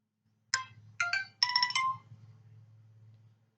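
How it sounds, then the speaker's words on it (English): A phone gives a short text message notification ringtone, three bright chiming tones in quick succession that ring out clearly over a low hum. "I got a text from the phone."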